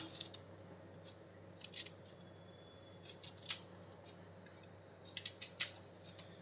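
Small onions being cut for Kerala kallappam batter, with soft crisp snips in short clusters over a steady low hum, close and quiet.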